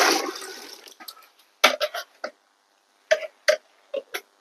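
Water poured and sloshed out of a small cup in a boa enclosure setup, first as a brief splashy rush, then several short, close splashes and drips in quick bursts.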